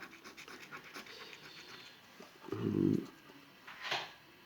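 A Malinois dog pants quietly in the background, with one louder breathy burst and some faint scratching.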